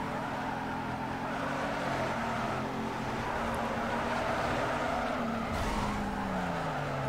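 A tuned Hyundai Tiburon drifts in Need for Speed Underground 2, its engine droning steadily under a continuous loud tire squeal whose pitch slides and sweeps, with no talking.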